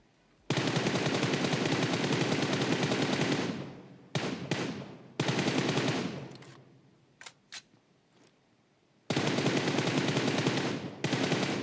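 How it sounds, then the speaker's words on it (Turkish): Bursts of automatic gunfire in a PUBG Mobile match, several long sustained volleys broken by short gaps and a few isolated shots, loud and close, with no talking. "Şimdi her yerden sıkıyorlar abi"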